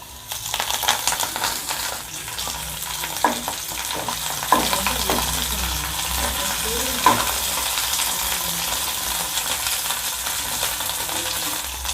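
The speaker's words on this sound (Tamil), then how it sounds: "இப்போ ஆயில் சூடாயிட்டு இப்போ நம்ம க்ரீன் சில்லியை போட்டுடலாம்." Green chillies and curry leaves hit hot oil for chilli idly, giving a loud, steady sizzle and crackle, with occasional spoon clinks and stirring scrapes against the pan and no talking.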